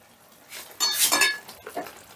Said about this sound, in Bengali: 8 মিনিট বাদে ঢাকাটা তুলে নিলাম